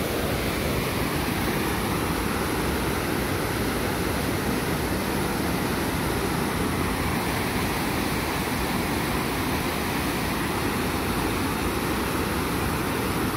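The Rio Salgado in flood at Aurora, Ceará, rushes with a constant, loud, broadband roar of moving water that never lets up.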